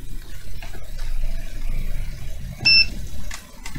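A multimeter in continuity mode gives a single short, high-pitched beep during bench work on a Bush Spira B1 Android tablet, over a faint low hum, with no talking.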